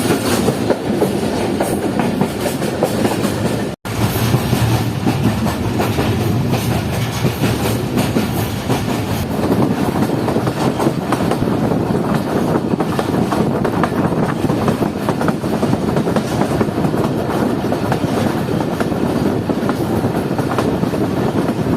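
The Jand Passenger train runs on rails toward Attock, heard from inside as a loud, steady rumble with continuous clickety-clack of wheels over rail joints and no talking.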